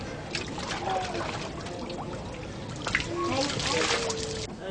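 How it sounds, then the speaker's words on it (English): Water from a hand pump splashes and trickles steadily as women bathe beneath it fully clothed, a continuous wet spatter with brief surges, close by, with voices faintly mixed in. "The women bathe under a water pump with their clothes on."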